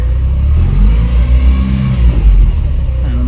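A 1987 Mitsubishi Montero Gen 1 engine revs loudly and close through a newly installed muffled exhaust, a deep, steady rumble that swells with the throttle.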